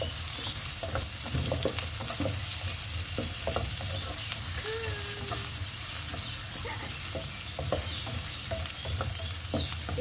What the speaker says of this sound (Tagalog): ating igigisa sibuyas at bawang